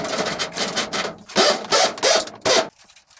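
Electrical wire is pulled through flexible conduit in a basement laundry install, producing several loud, close rubbing and scraping bursts in quick succession that end in quiet.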